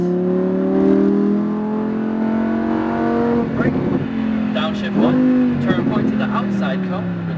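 A Lamborghini Huracan engine revs hard on a racetrack, its loud, rising whine climbing steadily through the gears with brief dips at each shift, heard close from inside the car throughout.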